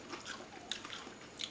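Someone bites into a crispy homemade fruit roll-up cookie, giving a few quiet, close crunching bites followed by chewing.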